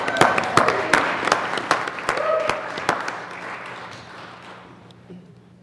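A round of applause in the Colorado Senate chamber for the Minority Leader, scattered sharp claps at first merging into steady clapping that fades out over a few seconds, with a voice briefly heard.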